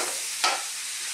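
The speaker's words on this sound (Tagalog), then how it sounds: "Medyo pasensya na po, medyo maingay po yung ating spoon." A spoon knocks once against a pot of callos, a single brief scrape standing out over a steady bed of sizzling and simmering.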